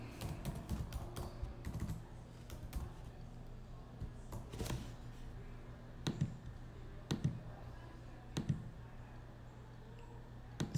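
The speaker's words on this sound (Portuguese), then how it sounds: "Vou colocar isso aqui para cá, só para eu digitar aqui a mensagem." Someone types a quick message on a computer keyboard during an online class, producing steady, fast clicking keystrokes with occasional louder taps and a constant background hum.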